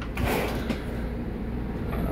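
A side drawer of a cabinet in a 2012 Hurricane 24-foot travel trailer slides open with a brief rumbling scrape and a light knock, close by and otherwise fairly still.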